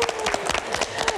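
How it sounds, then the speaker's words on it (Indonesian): A studio audience at a televised business competition applauds the coaches and participants, a dense, steady clapping of many hands at close range. "tepuk tangan untuk para coach juga, untuk peserta"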